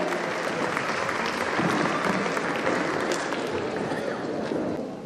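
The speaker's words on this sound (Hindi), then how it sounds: "जोरदार तालियों के साथ बच्चों की हौसला अफजाई होनी चाहिए।" An audience at a children's patriotic dance performance claps continuously in a dense, steady round of applause that holds throughout and fades slightly at the very end.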